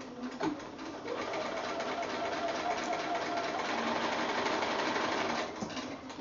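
Sewing machine chain piecing small quilt blocks with little corner pieces, a steady continuous whir running for about five seconds between brief pauses at start and end, close and fairly loud.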